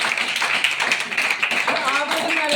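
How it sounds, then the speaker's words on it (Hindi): Audience clapping at a spoken religious gathering, a dense close burst of applause lasting a few seconds with voices mixed in. "ताली बजाओ इनके लिए।"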